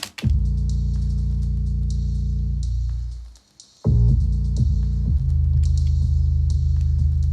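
Deep, booming 808 bass notes sustain and slide beneath a sparse trap beat with a faint high tick, dropping out briefly before returning.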